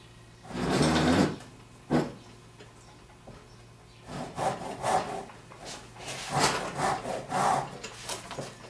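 A blade saws and scrapes around a ginseng wood cane to cut a shallow groove, heard as a loud rasp followed by a series of rhythmic short strokes, close and alone.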